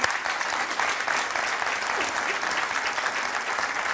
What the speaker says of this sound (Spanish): Vamos a darle un aplauso, que está muy nerviosa